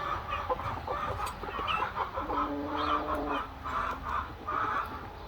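Backyard chickens clucking close by, a series of short repeated clucks and a drawn-out crowing call, fairly soft and moderately near against light outdoor background noise.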